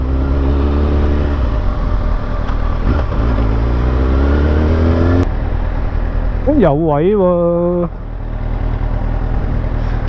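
Motorcycles, including Triumph and Ducati models, rumble close by with a loud, steady engine drone that rises and falls as they pass, and someone briefly speaks over the noise.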